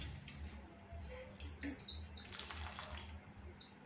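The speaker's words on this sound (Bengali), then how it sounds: "একটু জল কম হয়েছিল, আর একটু দিলাম" Faint splashing pour of a little water into a pan of cooking prawn and jackfruit curry, brief trickles and drips in a quiet kitchen.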